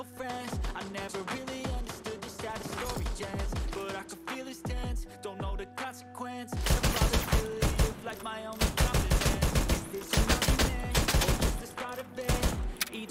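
Rapid gunfire from a shooter video game comes in dense, loud bursts of sharp cracks. It grows more intense in the second half, with short pauses between volleys.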